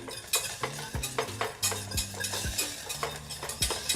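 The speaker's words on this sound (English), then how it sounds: "So we're gonna start putting in butter and whisking." Whisk scraping and tapping rhythmically in a pan as butter is worked into a beurre blanc sauce, with a steady stir and faint sizzle underneath, close and fairly quiet.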